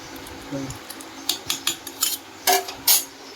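Boiled pasta is lifted out of a pot, with a run of sharp metallic clinks and scrapes of a utensil against the cookware, several close taps in quick succession.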